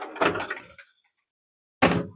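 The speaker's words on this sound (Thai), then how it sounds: "ก่อนเฮาสิไปเฮาต้องล็อกประตูป้องเอี่ยมให้แล้วก่อนเนาะ" A wooden window shutter on a house in Laos or Thailand swung shut with a hard clatter, then a second sharp knock as it is latched, close by and loud, with a silent gap between.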